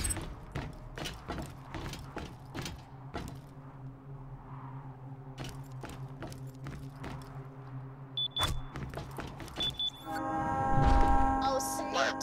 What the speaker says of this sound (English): I hear the train coming!